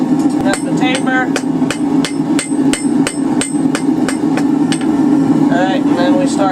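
Hammer blows ring out on an anvil as a blacksmith forges the tapered scroll of a drive hook: a steady run of sharp, loud, close metallic strikes over a constant low hum.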